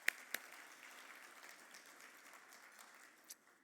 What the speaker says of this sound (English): So another round of applause for you guys also.